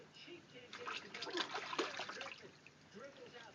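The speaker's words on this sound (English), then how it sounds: "splashing." A child splashes water while bathing a dog, giving a close, uneven run of sloshes and splatters with soft speech in the background.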